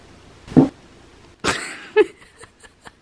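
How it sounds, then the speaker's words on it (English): A short, low burst of flatulence from a young child at bedtime sounds near and alone, followed by a few quieter bumps and shuffling noises. "You just farted."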